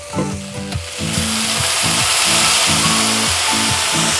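Sausages brown in a hot pan with a loud, steady sizzle and crackle. Rhythmic scraping of a utensil runs under the frying, close to the microphone.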